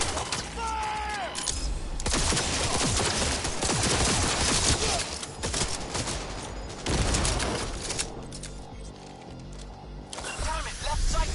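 Gunfire in the video game Cyberpunk 2077 comes as dense, loud bursts of rapid shots and fusillades that sweep through the scene, with voices shouting over the shooting.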